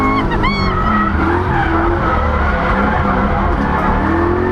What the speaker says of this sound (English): What could possibly go wrong during a controlled drift?